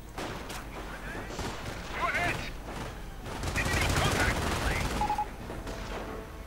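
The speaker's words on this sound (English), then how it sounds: "A burst of heavy machine gun fire forces away." Heavy machine gun fire rattles in sustained bursts across a WWII real-time strategy battle, loud and dense, mixed with other battlefield noise while a commentator talks over it.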